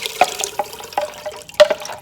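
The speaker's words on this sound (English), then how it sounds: "Try to get as much chicken broth out of there as I can get." Chicken broth poured into an Instant Pot pressure cooker, a close liquid splashing and trickling with a few drips and glugs as the last of it empties, over about two seconds with no talk.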